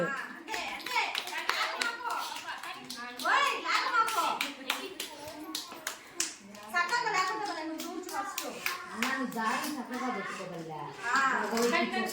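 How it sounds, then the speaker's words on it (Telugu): Young children at an anganwadi Children's Day games event clap hands rapidly and irregularly, sharp close claps in rolling bursts with short pauses, mixed with children's voices and chatter throughout. "కొట్టండి క్లాప్స్"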